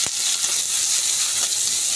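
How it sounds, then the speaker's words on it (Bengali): Chopped onion and ginger paste frying in a pan while being stirred, a steady close hiss of sizzling oil with faint scraping, no talking. "পেঁয়াজ কাটা দিয়ে দিই। একটু নাড়াচাড়া করে দিই।"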